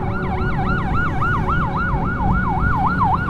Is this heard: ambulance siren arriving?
yes